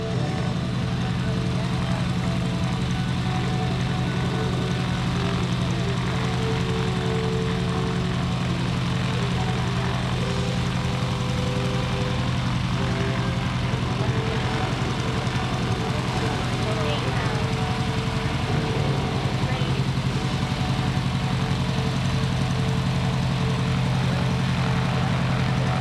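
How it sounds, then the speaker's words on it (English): Several airshow airplanes taxi past in trail formation on the ground, their engines producing a loud, steady, continuous drone that fills the scene throughout. "these pilots will be unable to hear you over those engines"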